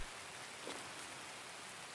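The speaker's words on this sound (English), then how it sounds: "Look, some nice rain ASMR." Steady rain in a video game raid, a soft, even hiss of falling drops with a faint patter, continuous and fairly quiet throughout.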